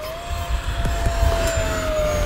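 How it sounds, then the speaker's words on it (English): A fast low flyby of a beginner RC F-15 Eagle jet running on 4S power: a steady whining electric ducted-fan tone with a faint rising and falling rush of air, continuous and fairly close over the whole moment. "So let's do a fast flyby, because this is a jet, right?"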